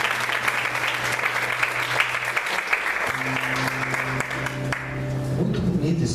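A church congregation applauds the Lord during a worship service, sustained crowd clapping over a held musical tone, with voices mixed in and the clapping thinning near the end.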